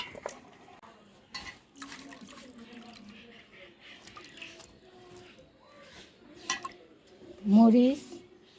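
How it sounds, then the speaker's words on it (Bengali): Water is poured into a pot of washed lentils, jackfruit seeds and potatoes for boiling, a soft trickling splash running under faint voices and kitchen clatter. "সিদ্ধ করার জন্য পানি দিয়ে দিলাম।"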